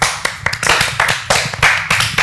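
Several hands clap together in an uneven, rhythmic run of close, sharp slaps, about a dozen bursts over two seconds, with no talking.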